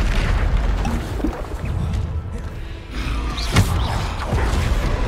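A Repulsor spell cast in Hogwarts Legacy, a deep booming burst with a rumbling, whooshing tail amid ongoing combat noise, loud and close.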